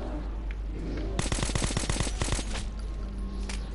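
Automatic gunfire in the video game Metro 2033, a rapid close burst of shots lasting just over a second, followed by fading game ambience.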